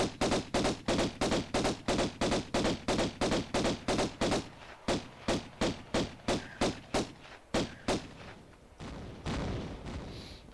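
Twin pistols fired in the original Tomb Raider I game, a long run of loud, regularly spaced shots at a steady rhythm, slowing and thinning toward the end before a brief low rumble.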